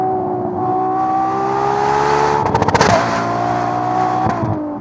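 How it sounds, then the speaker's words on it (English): Ferrari engine revving loudly with rising and falling pitch as gears shift, a sharp burst of rapid pops mid-way, heard close and alone. "all the way from the cars shifting gears to the engine starting up and revving"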